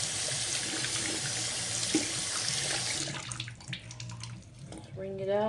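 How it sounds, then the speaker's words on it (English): Running tap water rinses makeup brushes and sponges at a sink, a loud steady stream for about three seconds that then breaks into splashing and intermittent flow as the water is shut off or interrupted, with a brief squeak near the end. "Make sure that you're rinsing out your brushes and your sponges very thoroughly"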